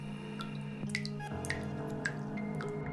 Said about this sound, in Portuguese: ela começou a ouvir um som de gotas que vinha do banheiro